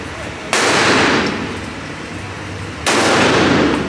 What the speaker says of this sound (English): First time shooting with the 30.